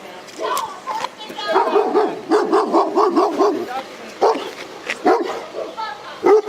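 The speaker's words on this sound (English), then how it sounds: "Get the dog in the house before you shot." A German Shepherd barks in a run of loud, close, rapid barks with a few yips mixed in, with voices talking around it.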